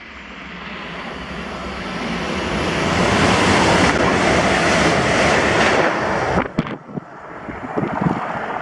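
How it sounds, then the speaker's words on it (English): A TransPennine Express passenger service from Manchester Airport to Edinburgh passes at Kirknewton: a loud rushing roar builds over several seconds, holds at full volume, then cuts off sharply, leaving brief rattles and rumbles, with no voices. "Then this was 1S38, the 11:17 Transpennine Express service to Edinburgh from Manchester Airport."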